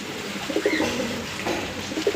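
Soft, low pigeon coos repeat in short rolling phrases, close by, over a steady background hum.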